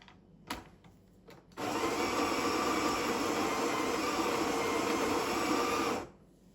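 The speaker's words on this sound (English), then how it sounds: "We'll grind a little bit more." A Breville Smart Grinder Pro grinds coffee beans in a steady, loud whirring burst of about four and a half seconds, preceded by a few clicks and ending abruptly, with no talk.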